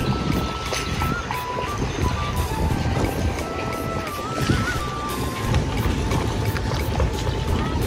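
Fishing boats come in to dock at Vam Lang port in Vietnam, giving a loud, steady wash of engine drone and water noise with faint tonal whines over it and no talking.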